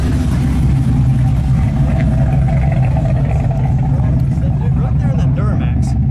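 A Joe Gibbs Chevrolet Silverado Duramax diesel pickup drones with a steady, loud low engine rumble throughout, heard from inside the cab under continuous talking.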